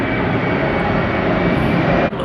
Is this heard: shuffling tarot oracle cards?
no